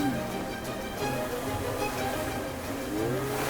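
A cartoon car drives fast, a steady droning engine hum with shifting tonal whine running continuously at moderate loudness throughout.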